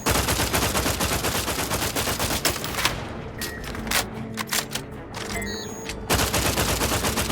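Sustained heavy gunfire in The Outer Worlds 2, a loud, dense stream of rapid shots. It drops briefly to scattered, sharper single reports with a few metallic clicks before the full barrage returns.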